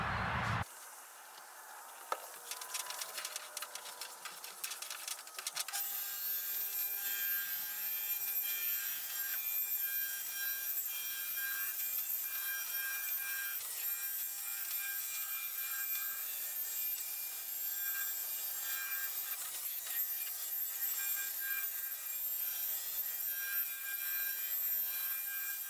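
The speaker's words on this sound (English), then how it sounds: "I'm using the polisher on the same speed again, but this time I'm using the finer Polar Shine 10 compound." A Mirka polisher with an orange foam pad works fine Polar Shine 10 compound over boat hull paint, giving a steady, close whirring rub with a faint hiss that keeps up without a break.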